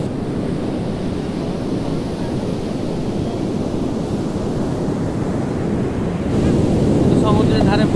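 Sea waves wash steadily onto Puri beach at sunrise in a continuous broadband roar, with wind buffeting the microphone throughout and the surf growing slightly louder near the end.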